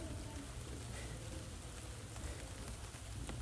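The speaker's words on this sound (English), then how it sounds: "Got the rain coming down." Steady rain pours down in rural Jamaica, a dense, even hiss of drops on surfaces that continues unbroken and fairly loud, with no voices.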